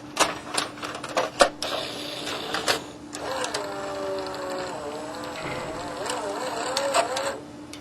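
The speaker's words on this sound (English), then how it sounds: "Here's a look at the bottom of the VCR as a tape is loaded." A VCR's single-motor tape-loading mechanism whirs and clicks, shown from underneath as a videotape loads: quick mechanical clacks first, then a sustained whine with shifting pitch as the tape threads through its path, with faint talk in the background.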